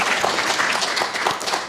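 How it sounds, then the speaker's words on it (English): An audience at a conference applauds with steady, dense clapping, many hands together at a moderate distance, sustained evenly throughout. "A big round of applause, please"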